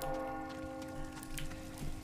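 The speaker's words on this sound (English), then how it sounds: "Pull the freaking bell, bro!" Church bell in the Resident Evil 4 Remake village, ringing steadily with sustained tones and periodic strikes in a game mix with a noisy, rain-like background; no one talks over it.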